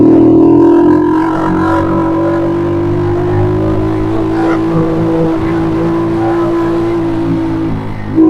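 A campaign vehicle for a congressional re-election drive rolls past on a one-way street, its engine a loud, steady close-up drone that holds for several seconds with no voices.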